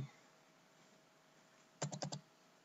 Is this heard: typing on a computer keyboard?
yes